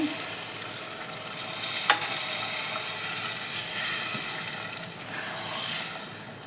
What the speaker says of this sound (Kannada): ಈಗ ನೀರು ಹಾಕ್ಕೋಬೇಕು.